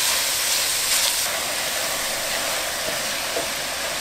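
Carrot and cabbage sizzle steadily in hot pork fat for Nagasaki champon, a constant, bright frying hiss with no talk.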